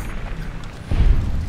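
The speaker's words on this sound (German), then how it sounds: "Ein Schuss mit der Büchse." A rifle shot in the video game Fallout: New Vegas lands as a single low, booming report about a second in, its heavy thud then tailing off over steady game ambience.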